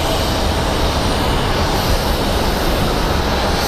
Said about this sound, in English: We have our flight to Newark powering up and getting ready to depart